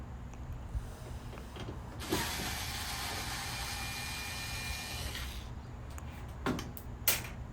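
Screws being backed out of the blower housing and bulkhead of a Samsung dryer during a drum roller replacement, a long continuous whirring ratchet-like run from a power driver, with brief clicks and clatter before and after.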